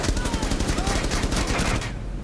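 Rapid automatic gunfire in the tactical shooter Rainbow Six Siege, a loud, dense burst of repeated shots rattling continuously for about two seconds before cutting off abruptly.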